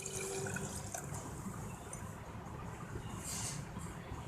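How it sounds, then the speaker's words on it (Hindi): Milk poured for a melon smoothie, a continuous faint liquid stream filling a container, steady and low in level without talk. "सबसे पहले हम दूध डालते हैं।"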